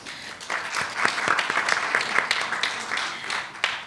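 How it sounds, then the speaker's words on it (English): Audience applause at a school debate competition, a continuous bed of many hands clapping for a few seconds, fairly loud and sustained, tapering slightly toward the end. "we applaud you for that"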